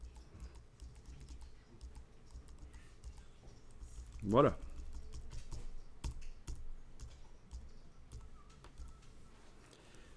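Computer keyboard arrow keys tapped repeatedly in quiet, scattered clicks, faint and close, while someone speaks briefly over them.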